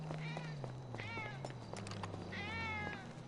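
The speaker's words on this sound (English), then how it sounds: "Wow, he's really meowing." A cat meows three times in drawn-out, wavering cries, fairly faint, over a steady low hum.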